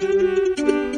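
A brief snippet of an AI-generated song with its lead instrument swapped to alto sax, sustained tonal notes changing pitch partway through, loud and without speech.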